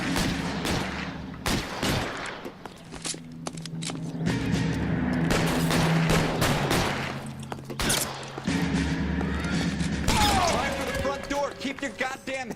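Gunshots in the video game LA Noire: repeated sharp loud cracks in irregular bursts, with a voice speaking between them over a background drone.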